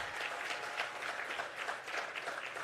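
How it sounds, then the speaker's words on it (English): An audience at a government highway project event applauds, a faint, steady crowd clapping heard at a distance with no talk over it. "I think that deserves a round of applause"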